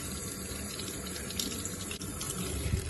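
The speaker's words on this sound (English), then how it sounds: "Okay, so run it under the water, scrub at the skin until all the mud comes off." A kitchen tap runs in a steady, unbroken stream while water chestnuts are scrubbed by hand under it to wash off mud, with small splashes and rubbing noises close by. There are no voices.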